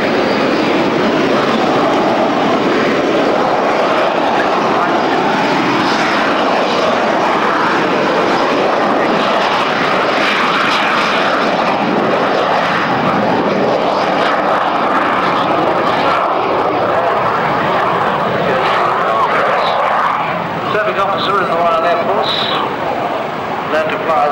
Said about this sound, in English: This is the L39ZO Albatross from Czechoslovakia, of the Czech Republic